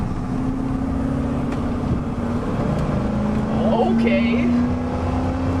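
Engine of a 1989 Ford F-150 revving up, a steady idle drone rising in pitch as the throttle opens, fairly close, with a person speaking briefly over it.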